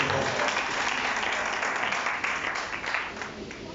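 A church congregation applauds with dense, steady clapping that fills the room, loud and sustained for a few seconds.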